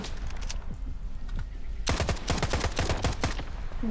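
Gunfire in the game S.T.A.L.K.E.R. 2 rattles off in fast automatic bursts, starting lighter and then erupting into dense, loud continuous shooting.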